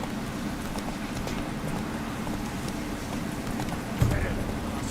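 The horse Roach gallops in The Witcher 3 with a steady rapid clip-clop of hooves over a continuous outdoor ambience. A brief thump comes near the end.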